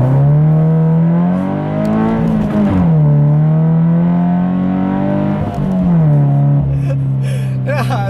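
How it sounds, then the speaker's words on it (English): Subaru BRZ on snow tires accelerating hard, engine note climbing through the revs, dipping at a gear change and climbing again, loud and close with faint tire hiss near the end. "that was the first time I've done a hard acceleration with these snow tires on"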